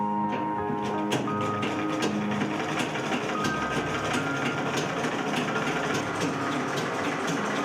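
A sewing machine stitches in a continuous mechanical whir with a fast regular ticking rhythm, close and steady for several seconds with no talking.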